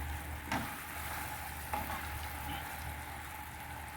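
Bagoong alamang shrimp paste fries in a pan with a soft, continuous sizzle, and faint stirring clicks sit under it.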